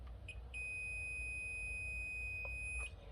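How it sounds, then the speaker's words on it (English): A voltmeter set to continuity gives a steady high-pitched electronic beep while testing the line and load of a 60-amp disconnect; one continuous tone runs for over two seconds, framed by brief clicks of the probes. "I have my voltmeter now set to test continuity, and it should beep from my line and load right here"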